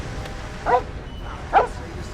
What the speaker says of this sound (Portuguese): Ah, cachorro.